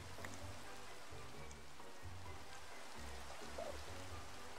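Rain falls steadily in Minecraft, a faint continuous hiss of drops with soft low rumbling pulses underneath and no talking.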